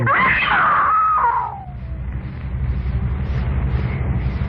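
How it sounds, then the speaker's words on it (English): A woman lets out a loud, shrill scream that slides downward in pitch and breaks off after about a second and a half, leaving a low, murky rumble. "I screamed."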